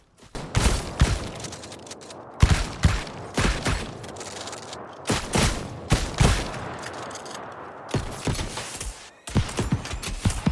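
Blunderbuss shots ring out in the online game New World during damage testing, a long series of loud booming blasts fired in rapid clusters with brief pauses, each followed by mechanical clatter, no voices.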